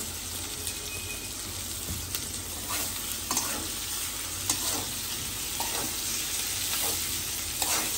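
Fish sautéing in a hot pan, a steady continuous sizzle with scattered stirring scrapes and clicks throughout, close and fairly loud, no voices.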